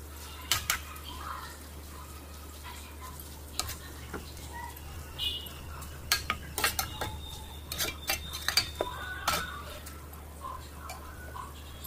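Pieces of Indian gooseberry (amla) frying in oil, with faint sizzling and scattered sharp clinks and taps of a utensil against the pan, close but quiet, with a low steady hum beneath.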